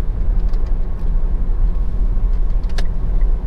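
Dense car traffic on the Waru–Mojokerto toll road during the return-travel rush, a loud, steady low roar of engines and tyres rolling past without a break, with no one speaking.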